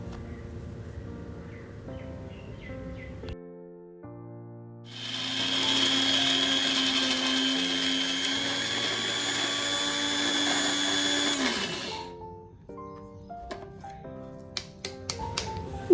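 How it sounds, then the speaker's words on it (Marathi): A kitchen mixer grinds a masala of peanuts, coriander, red chilli powder, coriander powder and turmeric for stuffed brinjal, whirring loudly and steadily for about seven seconds before winding down, with quieter clinks and handling noises before and after. "हे सर्व आता मी मिक्सरमधून फिरवून घेणार आहे"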